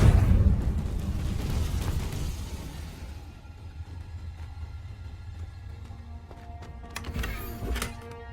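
A Confringo blasting curse goes off in Hogwarts Legacy, a loud booming burst that rumbles and fades over a few seconds, followed by quieter magical crackles and a small thud.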